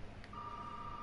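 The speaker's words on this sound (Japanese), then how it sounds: "電話だ、電話あったね。" In the video game Resident Evil 7, a telephone rings as a single steady electronic tone that starts after a brief click and holds, quiet and close.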